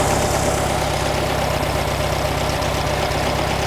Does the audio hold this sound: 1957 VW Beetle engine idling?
yes